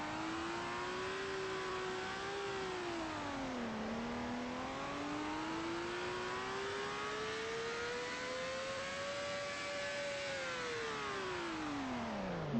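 A car engine revs and accelerates steadily, its whine rising and falling in pitch across the run, loud and close with no voices over it.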